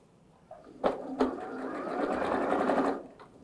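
A sewing machine stitches a satin cap, starting with a couple of clicks before running in a steady whirring burst of about two seconds at close range, then stopping.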